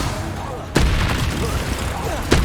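Bombarda spell blasts in Hogwarts Legacy gameplay: a loud booming burst cuts in sharply, followed by rumbling game clatter and distant voices, then a second sharp impact near the end.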